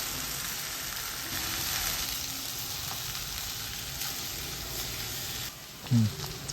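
Chopped okra and onion fry in a pan for a Gujarati-style sabzi, a steady close sizzle with light stirring scrapes and a dull knock near the end.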